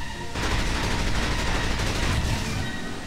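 Submachine gun fire in the James Bond video game From Russia With Love: a dense, loud burst of rapid automatic shots that starts abruptly and keeps rattling steadily for nearly three seconds, with no voices.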